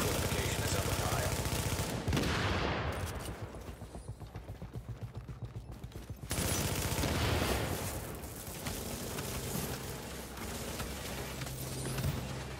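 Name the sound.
gunfire at a friendly fortification in a video game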